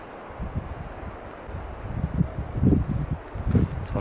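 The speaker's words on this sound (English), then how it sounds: "The wind and the dust are really picking up and making it difficult." Gusty wind blows dust across an open moraine slope below Mount Rainier, a low rumbling buffet against the microphone that builds and surges in uneven waves.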